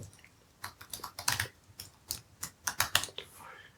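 Quick, uneven clicks of fingers tapping a computer keyboard, close and fairly soft, in short bursts of keystrokes.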